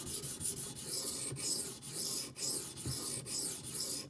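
A knife is ground on a Japanese sharpening stone in rhythmic back-and-forth rasping strokes, about two per second, close and fairly quiet, with no talking.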